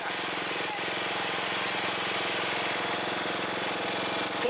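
A Kubota L3301 tractor runs in second gear with a 60-inch Titan tiller attached, a loud, steady, close diesel drone with a rapid pulsing knock that holds constant throughout.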